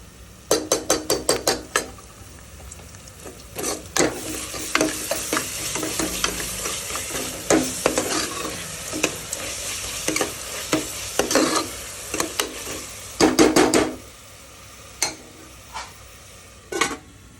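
Onions sautéing with ginger-garlic paste for a country chicken curry, a steady sizzle broken by repeated scraping stirs against the pan, with bursts of clattering around the middle and near the end; no talking.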